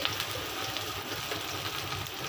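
Onions frying in a wok for a fish curry, giving a steady soft sizzle and crackle throughout with no talk over it.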